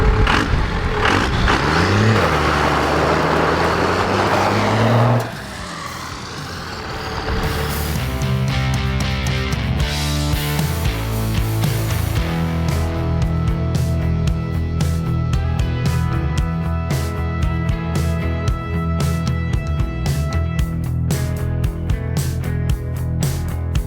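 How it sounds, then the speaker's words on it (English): A Dodge Ram truck with a Cummins engine does a burnout after a bed swap, its engine roaring loud and close, then dipping briefly before revving hard again with rattling clatter and sustained high-pitched whine for over twenty seconds. "every time that we swap beds on these trucks, we're gonna go ahead and do a little burnout"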